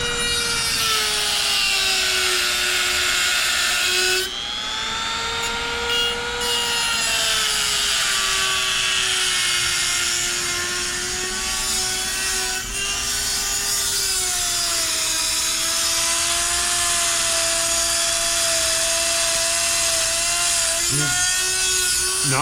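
A Chicago Electric rotary tool grinds steadily and loudly during an AE86 rear end rebuild, a continuous high whine with a shifting pitch as pressure is applied, running alone for the whole stretch.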